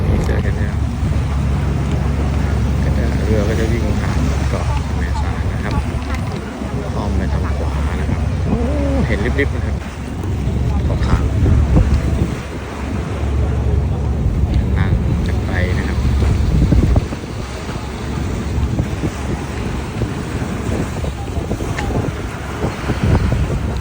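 Strong wind buffets the microphone on a tourist boat crossing the sea to Koh Kham, with steady engine drone and water rush throughout and faint voices now and then beneath.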